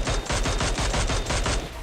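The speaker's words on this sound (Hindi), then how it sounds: "उस पर फायर किया" Rapid automatic gunfire in the PUBG Mobile video game: about ten sharp shots in a fast, even burst, loud and close with no talking.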